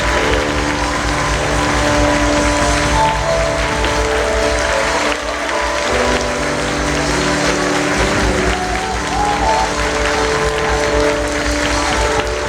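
A church congregation claps their hands together during a prayer service, steady clapping running throughout beneath sustained musical tones, with no clear break over about twelve seconds.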